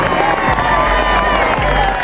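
An astonished crowd gathers outside a hangar as the Northrop B-2 stealth bomber is rolled out on November 22, 1988, a loud, steady wash of cheering and applause with whoops rising from the mass of onlookers.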